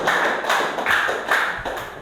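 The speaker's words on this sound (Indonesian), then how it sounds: "Tepuk tangan dulu untuk fakta." A classroom group claps in a brisk, rhythmic pattern of repeated bursts, fairly close and steady throughout.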